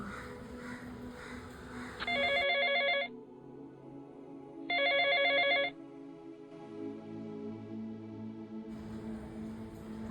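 A telephone rings in two bursts of bright electronic trilling, each about a second long, separated by quieter background hum in an indoor setting.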